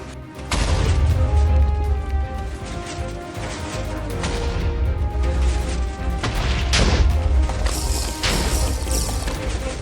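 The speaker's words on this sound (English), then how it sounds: "That was a lot of explosions." Explosions in Minecraft during a Nether run with a wither firing, a dense series of booms and crashes with rumbling bass and sharp cracks, loud throughout.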